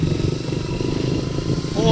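A motorcycle riding along a road in San Sebastian, Samar, its engine a steady close mid-pitched drone with a rise near the end, while someone talks over it.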